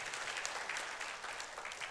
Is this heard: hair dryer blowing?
no